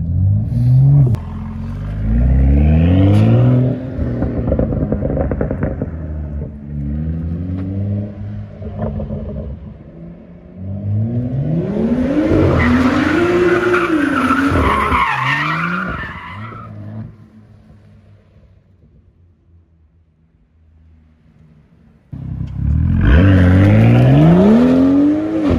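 A BMW M2 drifts, its engine howling and revving loud and close while the tyres screech in long skids, with a quieter lull before the car roars back near the end.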